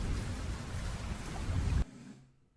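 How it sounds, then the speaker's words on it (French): A steady rain sound effect in Roblox Studio hisses as a dense, even wash for nearly two seconds, then cuts off abruptly and leaves only a faint fading tail. "on entend du son pendant la pluie."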